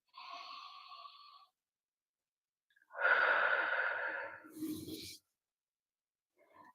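Slow, deep breaths during a loving-kindness meditation, heard close and clear: a soft breath, a pause of near silence, then a longer, fuller breath that fades into a low sigh-like release.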